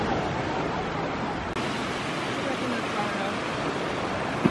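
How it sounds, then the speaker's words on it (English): Ocean waves wash in steadily at Clearwater Beach, Florida, a continuous broadband roar of surf that stays loud and close with no breaks. "look at the waves coming in all of a sudden"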